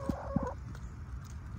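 Soft, low clucks from chickens close by as they eat kale and caterpillars, a couple of short calls over a quiet outdoor background.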